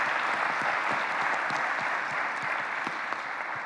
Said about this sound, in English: And let's give them another round of applause.